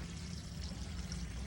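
Water flows into a garden bed, a steady, soft pouring and gurgling stream heard close by, unbroken for the whole brief moment.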